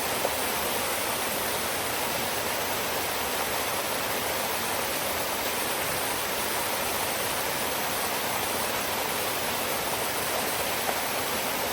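Heavy rainstorm pounding a forest, a continuous dense hiss of rain at steady, loud level throughout, with no talking.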